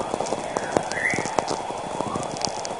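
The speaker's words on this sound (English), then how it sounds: "NASA's spacecraft Juno recorded sounds many people are referring to as a creepy roar." Juno spacecraft recording of Jupiter's bow shock, heard as a dense crackling, hissing roar full of irregular pops and clicks, steady and moderately loud with no voices.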